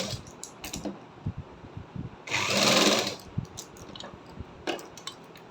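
A sewing machine stitches along the folded fabric edge of a half-collar neck in one brief whirring run of under a second. Scattered clicks and fabric handling come before and after it, with no talk.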